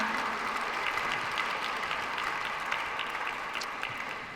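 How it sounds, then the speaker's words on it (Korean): Steady applause from a crowd at a Korean young merchants' workshop, dense clapping that holds evenly throughout and fades slightly near the end. "힘찬 박수로 환영해 주시기 바랍니다"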